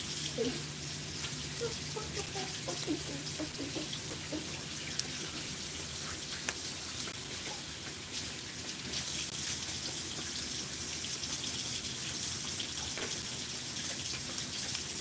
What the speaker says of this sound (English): I'm just gonna wash my hands over here.